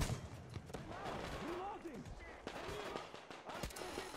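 Gunfire in Metro Exodus from a dirty, inaccurate gun, with a series of sharp shots scattered irregularly over a steady background, mixed with game sounds and a voice talking.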